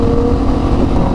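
A Kawasaki ZX10 motorcycle revs loud and close during wheelies, a brief sustained engine roar with no voices.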